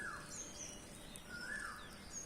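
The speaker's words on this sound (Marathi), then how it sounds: "अनेक चिमण्या आहेत" Faint house sparrow chirps come in short bursts over a low background hum, a few small birds calling intermittently at a distance.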